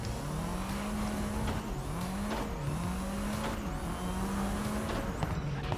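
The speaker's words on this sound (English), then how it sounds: "I'm just braking hard, cutting them off on the inside." A race car brakes hard in the racing video game GRID Legends, its loud, steady engine drone dipping and rising in pitch with shifts, with tire squeal layered on top and no talking.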